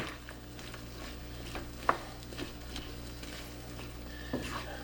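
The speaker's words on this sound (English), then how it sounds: "And give it a good stir." Apples, vanilla and raisins being stirred in a pan for puff pastry apple strudel: a faint, steady low sizzle with soft scraping strokes and one sharp utensil clink, no voices.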